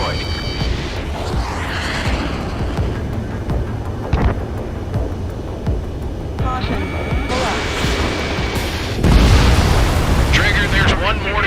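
Explosion of a destroyed enemy aircraft in the Ace Combat 7: Skies Unknown jet combat game, a loud, rumbling blast that swells near the end over constant engine roar, with radio voices talking.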